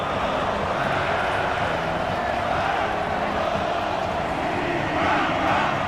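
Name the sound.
crowd cheering in an American football video game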